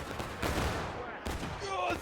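Musket volleys in a Civil War video game, infantry firing buck and ball at East Woods: two ragged bursts of massed gunfire crackle close and loud, with shouted voices mixed in.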